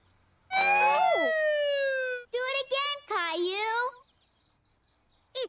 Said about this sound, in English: this siren is very, very loud